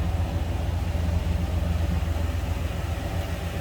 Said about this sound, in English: Crazy exhaust, just a nice sounding 350,